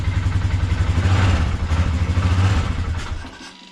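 A small engine with a fault revs up under throttle in a shop, a loud steady mid-pitched drone with rattly clatter that holds for about three seconds, then drops away as the throttle is released.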